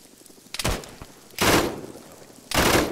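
Three loud, sharp rifle shots fired at a target near a tree line, spaced roughly a second apart, each with a short rumbling tail and quiet gaps between.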